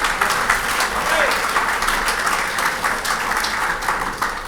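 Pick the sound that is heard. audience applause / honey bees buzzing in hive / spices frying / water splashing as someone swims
audience applause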